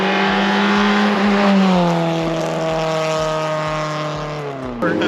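A Honda Civic hatchback engine pulls hard after a gear change, its rising drone steady and loud in the cabin before easing off near the end, with no talk over it.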